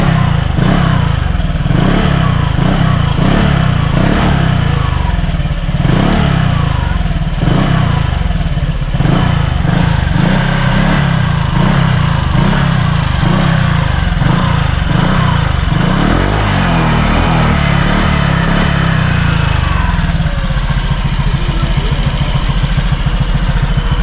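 A Honda Click 125/150 scooter fitted with a Sun Racing Silent Killer Power Pipe exhaust runs close and loud, with a pulsing, throbbing idle and rising revs through the first half, settling into a steadier drone afterward.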